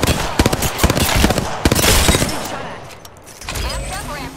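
Rapid automatic weapon fire in the battle-royale game Apex Legends, loud and close, in sharp bursts over the first seconds, then fading into impacts and game effects.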